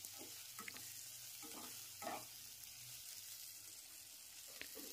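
Garlic paste, with onion, frying and being stirred in a pan for a Bengali fish masala, a low steady sizzle with a few soft scraping strokes, faint and close, no talk.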